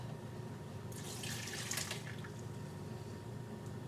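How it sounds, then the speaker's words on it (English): Water runs briefly from a tap into a cooking pot, a short splashing burst over a quiet steady background hum. "You want to get a little bit of water in there."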